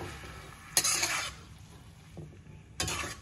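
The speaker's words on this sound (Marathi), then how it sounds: "आता हे व्यवस्थित आपण परतून घेऊया" Fenugreek leaves and moong dal being stirred in a pan for Maharashtrian methi bhaji, two short scraping, sizzling bursts of the spoon against the pan, close, with quiet gaps between.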